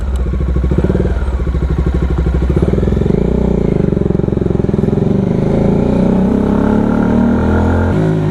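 A Bajaj Dominar 400 motorcycle engine rumbles loudly and steadily while riding at low revs, with a deep continuous drone that shifts pitch slightly as the rider eases along a rough back road.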